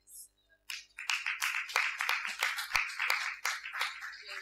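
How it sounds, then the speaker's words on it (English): Applause at a World Hemp Congress session, starting after a brief pause and building into dense, lively clapping from a small group close by that holds steady to the end. "You need one applause for this."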